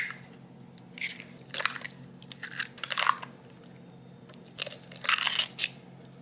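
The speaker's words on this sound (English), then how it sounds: "Next, we're gonna put in 4 large eggs." Four large eggs are cracked into cake mix in a kitchen, giving several close, crisp shell cracks and crunches in irregular clusters over a quiet hum.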